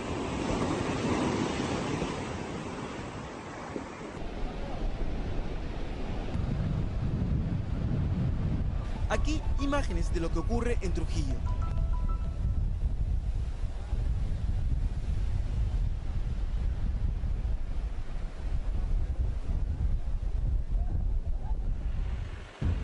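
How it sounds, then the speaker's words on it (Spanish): Heavy sea surf crashes against the coast at Trujillo, pounding the facades of nearby houses in a continuous loud roar mixed with wind buffeting the microphone, while a voice speaks briefly over it. "el mar revienta en las fachadas de las lujosas casas cercanas"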